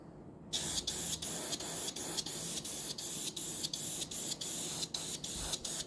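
An airbrush sprays paint onto a Belfast scale model in short, even bursts of hiss, about a dozen in a steady rhythm, close and fairly quiet, with no talking.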